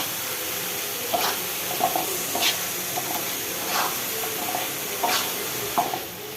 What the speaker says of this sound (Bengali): এক এক করে মাছগুলো দিয়ে দিলাম।